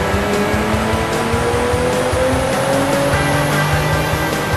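A Nissan 350Z running on synthetic 0W50 oil revs hard on a dyno, a loud, continuous engine roar with rising pitch filling the whole stretch.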